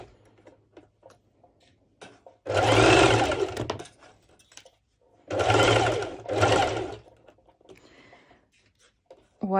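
A sewing machine basting stretchy fabric at the neck area of a halter top runs in three close, loud bursts of rapid stitching, separated by quiet pauses with faint handling noises.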